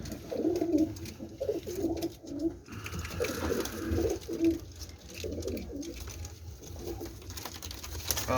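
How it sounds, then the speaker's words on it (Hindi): Dub-type pet pigeons give repeated low, throaty coos in rolling phrases, close by, with light patter and faint background noise between calls. "ये डब वाला कबूतर है"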